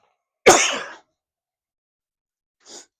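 One sharp, explosive cough up close, then silence and a second, much softer short cough near the end.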